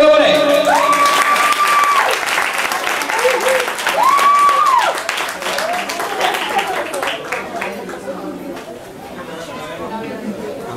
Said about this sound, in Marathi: ऋषिकेशसाठी टाळ्या होऊन जाऊ देत